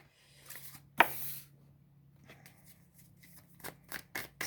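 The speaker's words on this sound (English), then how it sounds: "So how I do my readings is I do shuffle first." Tarot cards are shuffled by hand in quiet, close bursts of soft riffling and sliding, with one sharper snap near the start and no talking.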